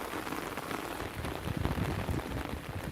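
Steady rain pours down on a town in Jhunjhunu, Rajasthan, a dense, continuous hiss of drops striking hard surfaces nearby, with heavier patter swelling midway and no voices.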